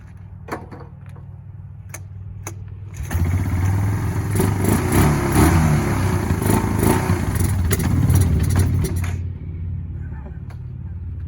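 A Kawasaki Bayou ATV engine being revived runs with a loud rough rattling idle for several seconds, then cuts back to a lower clatter, with sharp clicks and knocks around it up close.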